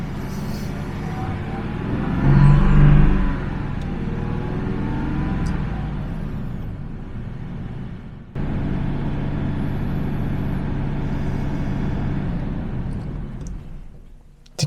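A Jaguar XJS V12 engine idles with a steady low rumble nearby, swelling briefly early on, dipping for a moment and then carrying on evenly.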